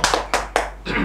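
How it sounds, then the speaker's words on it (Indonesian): Audience claps hands on a talk show: four distinct, loud, close claps spaced roughly evenly over about a second, with faint voices underneath. "Oke, tepuk tangan dulu buat kita semua."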